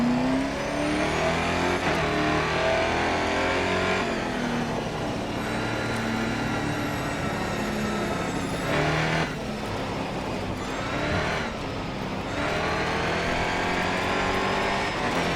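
A V8 Holden race car in Grid Autosport drones and revs continuously for about fifteen seconds, with rising and falling engine pitch through gear changes, loud and close as heard from the cockpit.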